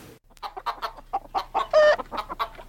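Chickens clucking close by, a quick run of short, choppy clucks with one louder drawn-out squawk in the middle, alone against a quiet background.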